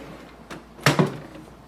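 Scanner section of an HP ENVY Inspire 7224e printer lifted up, two quick plastic clunks close by, preceded by a faint click, no talk.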